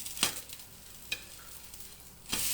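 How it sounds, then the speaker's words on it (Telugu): Jowar dosa crisping on a hot pan, giving a faint steady sizzle with a few brief louder scrapes or stirs near the start, middle and end, and no voices. "ఇప్పుడు దోశను మెల్లగా ఈ విధంగా క్రిస్పీగా ఎర్రగా దోశను పెనంపై చేసుకోవాలి."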